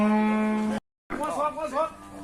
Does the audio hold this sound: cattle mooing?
yes